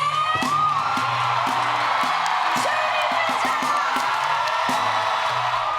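A large festival crowd roars with sustained cheering, whoops and yells, greeting surprise guest Joni Mitchell onstage at the Newport Folk Festival. The dense, loud wall of voices holds steady throughout, with scattered claps.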